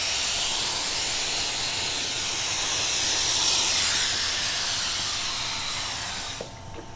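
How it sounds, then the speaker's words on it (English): A steady, close hiss of activator sprayed from an aerosol can onto hydro-dip film, running for several seconds, swelling slightly in the middle, then cutting off with a faint clatter at the end. "we're gonna go ahead and spray this with the activator"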